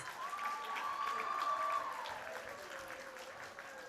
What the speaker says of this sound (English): Yuvraj Madan needs a very good round of applause